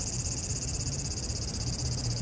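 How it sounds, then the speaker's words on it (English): Cicada singing on a summer day in Japan, a steady high buzzing drone heard from somewhere overhead, faint and continuous with no talking. "That is a cicada."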